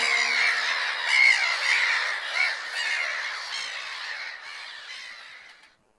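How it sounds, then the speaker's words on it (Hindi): An owl gives a harsh, raspy screeching call that carries on loudly and continuously for about six seconds before cutting off, alone with no other sounds. "ऊ से उल्लू। ऊ से उल्लू।"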